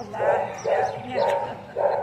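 A dog barks four times in a steady, agitated rhythm, fairly close, on a farm, with quieter background noise between the barks.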